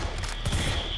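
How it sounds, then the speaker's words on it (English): A short, dense volley of gunfire from the Metal Gear Solid V video game, a loud rattling burst filling about a second. "They fired anyway. I love how they all fire sideways."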